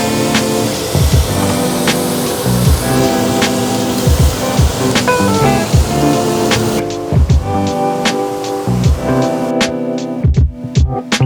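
Tequila-aged skirt steak sizzles loudly in a pan just after being flipped, a steady hiss with crackling pops running throughout, close and alone.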